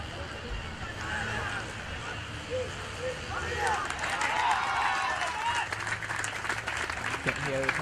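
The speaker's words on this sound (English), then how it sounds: "You can hear the Hamedian supporters roaring out their team here." Crowd of school football supporters at a Renown Cup quarter-final between St. Joseph's College and Hameed Al Hussein College cheering and roaring steadily in the open, with a commentator talking over them.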